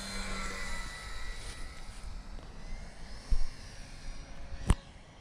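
An E-flite Night Timber RC airplane flying over a runway, its small electric motor a faint, wavering buzz at a distance, with a couple of brief sharp knocks close by.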